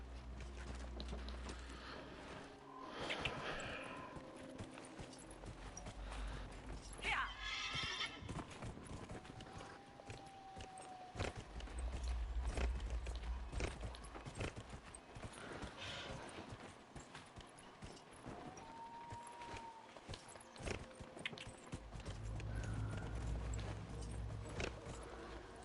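Horse in Dragon Age: Inquisition, hooves clip-clopping at a moderate pace with a couple of whinnies and snorts amid outdoor game ambience, fairly quiet with no speech.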